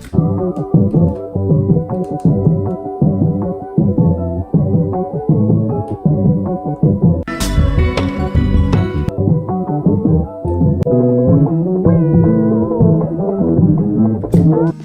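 A throbbing bass line pitched up one octave (12 semitones) and EQ'd repeats in a steady rhythm, loud and alone, with a brief bright burst partway through.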